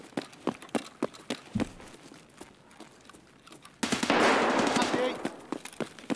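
Gunfire in the video game Escape from Tarkov, a short volley of loud, sharp shots bursting near the middle, with scattered impacts and a voice talking over the clip.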